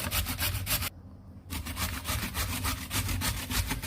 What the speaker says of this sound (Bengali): আমি এখন ফুলকপিটা গ্রেড করে নিব মেশিন দিয়ে এভাবে